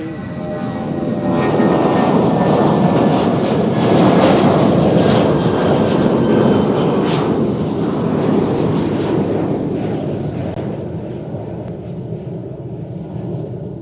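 An Aerologic cargo jet at Cincinnati airport roars past, a loud broad engine rumble that swells to a peak midway and then slowly fades as it moves away, with no talk.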